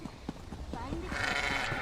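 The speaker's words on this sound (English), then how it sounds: "Ghostly goats." Ghostly goats bleat in the Elder Scrolls Online video game, a few wavering cries under game sounds and speech, rising to a louder shimmering wash near the end.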